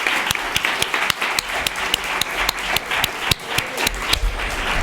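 A conference audience claps for a speaker, a dense, steady burst of applause with sharp individual claps standing out, loud and continuous with no talk over it.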